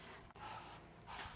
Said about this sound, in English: We're just going to spray this on there.